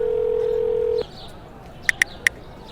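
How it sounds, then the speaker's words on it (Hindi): A telephone call goes unanswered as a steady ringback tone holds for about a second, then breaks off, followed by three short, sharp electronic beeps in quick succession. "सुहानी थी कि फोन ही नहीं उठा रही थी।"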